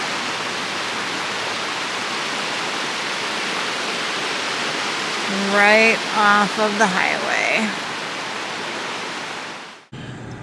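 A waterfall in the Great Smoky Mountains pours into a river, making a steady, loud broadband rush that runs unbroken through the whole clip while a person talks briefly over it.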